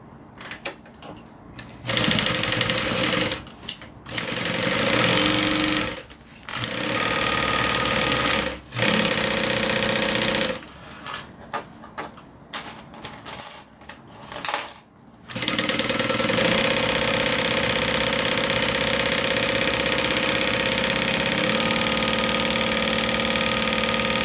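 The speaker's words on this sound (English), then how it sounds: "So now I'm just going to sew everything together." A sewing machine runs in loud, steady bursts as fabric pieces are stitched together, pausing briefly between runs and then whirring continuously through the final stretch. No talking is heard.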